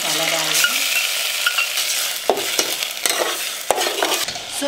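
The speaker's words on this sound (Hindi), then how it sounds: "प्याज में अभी डाला ऑयल, अभी पीसा हुआ मसाला डाला।" Freshly ground masala fries in oil with onions in a pan, a close, busy sizzle broken by several sharp scrapes and stirs of a spoon.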